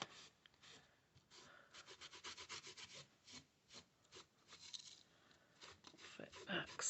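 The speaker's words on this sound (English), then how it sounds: "I'm just going to give this a wee bit of a buffing" An embossed paper surface made with a Sizzix 3D embossing folder is being buffed by hand, giving close, soft, repeated rubbing strokes in irregular bursts over several seconds.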